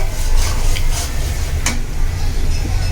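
Spices being stirred in hot oil for a spiced egg curry, a steady close scraping and rustling of the spoon over a continuous low sizzle, with no voices.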